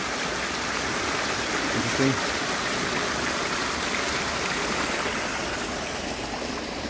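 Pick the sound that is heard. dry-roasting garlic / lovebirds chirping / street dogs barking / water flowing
water flowing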